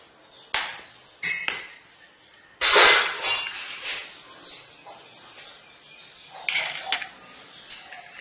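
Egg mixture whisked in a bowl with a utensil: scattered clinks and taps against the bowl, then a longer stretch of wet scraping and clattering, close and moderately loud.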